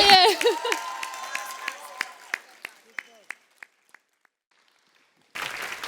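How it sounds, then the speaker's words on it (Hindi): Studio audience on a comedy show breaks into applause, strongest at the start then thinning into a few scattered, fading claps before a brief silence and a fresh burst of crowd noise at the end. "एक बार जोरदार तालियां"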